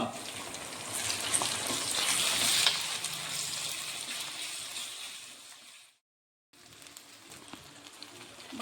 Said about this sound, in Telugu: ఇప్పుడు బాగా వేయించుకుందాం ఉల్లిపాయలు పచ్చిమిరకాయలు కరివేపాకు ఫ్రై అయ్యేంత వరకు వేయించుకుందాం